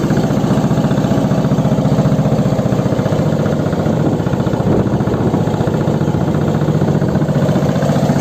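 A steady, loud bangka boat engine rumbles and idles continuously throughout in the rain, with a constant mechanical vibration and no voices.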